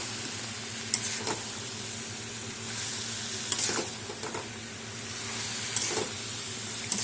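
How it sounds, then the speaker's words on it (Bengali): Chicken and potatoes frying together in a pan, a steady close sizzle with occasional scrapes of a spoon stirring the mix. "কষিয়ে নেবো সব একসাথে।"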